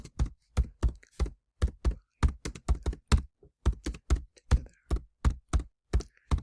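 A computer keyboard tapped with one finger gives slow, separate, uneven keystrokes, about twenty clicks with short pauses between them, close and clear with no talk.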